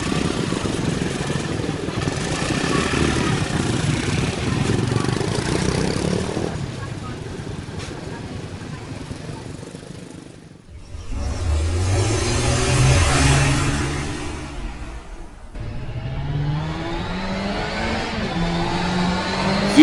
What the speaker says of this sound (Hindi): गुल्ली ने भी जीप स्टार्ट की और जेसन के अड्डे की ओर जाने लगा।